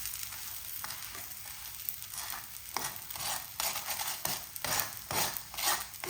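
Paratha made with semolina frying in oil on a pan after being flipped, a steady close sizzle broken by repeated louder bursts of crackling and spatula scraping, with no voices.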